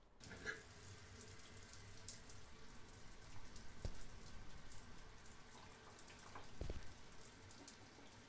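A shower runs in a driving simulator video game, giving a steady, faint hiss of falling water with scattered small splashes and drips throughout, heard alone without talk.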